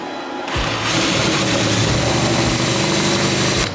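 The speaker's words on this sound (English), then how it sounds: "Don't like that drill bit." A power drill boring into a Honda CB500 motorbike cowl, a loud, close, sustained high whine that starts abruptly, holds steady for about three seconds with slight load changes, then cuts off.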